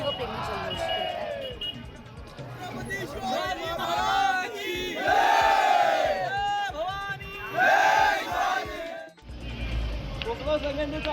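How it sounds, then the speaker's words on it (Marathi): Shivaji devotees at Raigad fort, carrying torches and saffron flags, chant and cheer for Shivaji Maharaj. Loud surging waves of many voices rise and fall in rhythmic slogans, with a brief drop near the end. "हातात मशाल, भगवा झेंडा आणि शिवाजी महाराजांचा जय जयकार करत शिवप्रेमी जल्लोष करतात"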